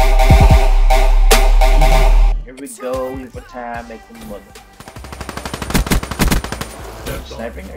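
Gunfire in Call of Duty: Black Ops 3: loud rapid automatic bursts open the scene, then a stretch of speech, followed by another quick rattle of machine-gun shots.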